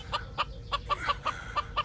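A chicken clucks repeatedly in quick, evenly spaced bursts, close and clear, in the video game Star Trek: Resurgence.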